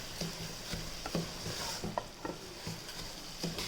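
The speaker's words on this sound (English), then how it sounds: "Now fry the rice for 1 minute." Drained rice is stirred and fried in a pan for tomato rice, with a soft steady sizzle under irregular scraping and clinking stirs of a spoon against the pan, close and fairly quiet.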